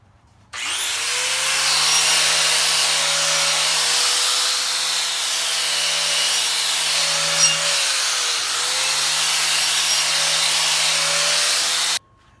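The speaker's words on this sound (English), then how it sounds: "I take a wire cup and I clean any leftover plasma slag off the edge of the beadlock." A wire cup brush spins against the edge of a weld-on beadlock wheel ring to scour off plasma-cut slag. It gives a loud, sustained abrasive whir that starts abruptly, runs steadily for about eleven seconds, then stops.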